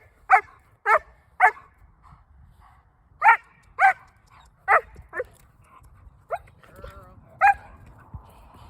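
Loud, sharp dog barks during protection training, coming in short bursts of two and three with pauses between, fairly close, plus a few softer yelps toward the end.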